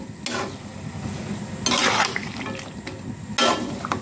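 Taro stolons boil with hilsa fish in a pot while a utensil stirs, giving three bursts of scraping and clinking over a low bubbling simmer, without speech.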